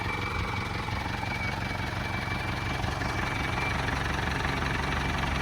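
An Isuzu NKR 110-horsepower diesel truck engine idles close by, a steady low rumbling drone with an even, unbroken knock throughout.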